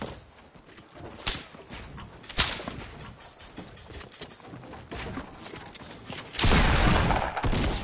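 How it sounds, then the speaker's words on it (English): Sniper gunfire in a video game, several sharp cracks and bursts spaced unevenly over a busy game background, with a louder rush of noise near the end. "He's getting sniped at too now."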